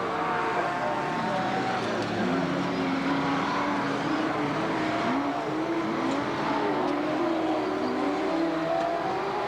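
Late model race cars roar through a heat race on a 1990 oval, a continuous loud engine drone that rises and falls in pitch as cars pass, with an announcer talking over it.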